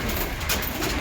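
Pigeons coo softly and close by in one short, throaty burst.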